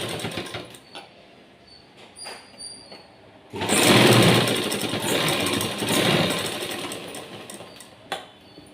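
A sewing machine stitches along a blouse border in one sustained run of about four seconds, loud and near, preceded and followed by quieter handling noises and a sharp click near the end.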